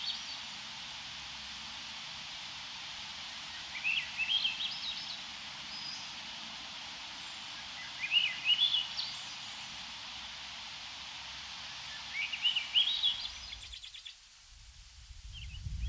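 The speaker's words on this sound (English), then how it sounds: "this is the song of the Swainson's thrush" A Swainson's thrush sings three brief, fluting phrases spaced a few seconds apart, faint against a steady hiss of background noise.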